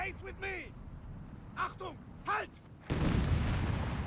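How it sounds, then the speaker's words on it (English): A Panzer III tank fires in Company of Heroes 3, a sudden loud gunshot blast near the end that follows a stretch of speech with rising pitch. "Let's get the Panzer III to shoot it."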